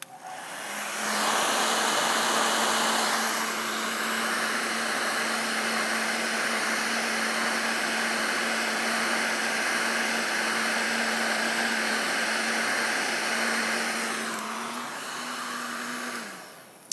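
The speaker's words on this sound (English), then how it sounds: "keep your heat gun moving" A heat gun blows continuously on a scratched deck board, giving a loud steady whooshing hum with a faint tonal whine that holds for about fifteen seconds before tapering off.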